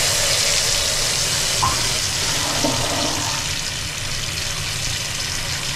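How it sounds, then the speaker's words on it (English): Household toilet flushing close by, a steady loud rush of water that holds evenly and eases slightly toward the end, with no talking. "if I turn the water on and then flush the toilet"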